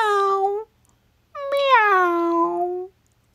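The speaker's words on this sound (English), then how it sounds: "meow," agreed Hamish pitifully" A cat meows pitifully twice: a short, falling cry, a pause, then a longer, drawn-out wail that sinks in pitch. Both are close and clear against silence.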